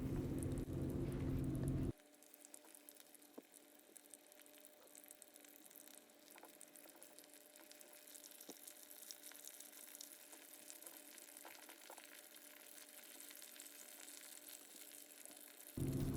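Pork slices frying in oil in a pan for sweet and sour pork, giving a continuous close crackling sizzle with brief louder bursts at the start and end, and occasional soft pops and stirring sounds.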